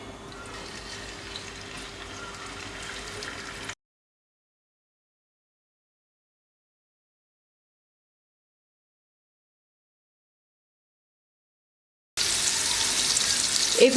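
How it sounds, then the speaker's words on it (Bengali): Prawns drop into lightly heated soybean oil for a cabbage-and-prawn dish: a low, steady hiss runs, cuts to a long silence, then a bright, loud sizzle bursts in near the end. No one speaks. "এবার আমি চিংড়ি মাছগুলো দিয়ে দিচ্ছি।"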